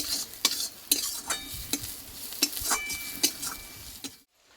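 Curry leaves frying in a pan: a soft sizzle under repeated sharp scrapes and taps of a utensil stirring, about eight strokes at an uneven pace, close by, ending in sudden silence.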